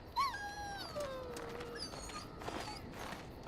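A war dog in the video game Dragon Age: Origins gives soft, high, drawn-out whimpers, a few thin whining tones over quiet background ambience.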